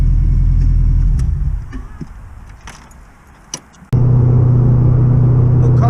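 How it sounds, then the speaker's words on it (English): A Subaru GC8 Impreza STI Type R engine idles loudly with a newly fitted MAF sensor, cuts out into quieter handling noises with a jingle of keys, then roars back to a steady running hum. "The car's running fine."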